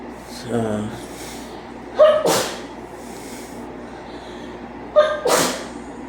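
Two sharp sneezes, one around the two-second mark and another a few seconds later, each with a quick intake before the burst, over faint background noise.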